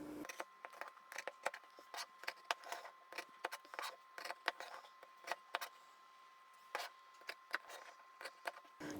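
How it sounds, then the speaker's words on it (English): Scissors snipping through fabric to cut small one-inch squares, a quick series of crisp close cuts in irregular bursts with short pauses between, no talking. "Let's cut out the 1-inch squares."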